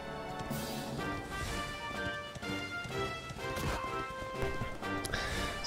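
A horse trots in Dragon Quest XI. Its hooves clip-clop in a steady, close rhythm beneath continuous game music.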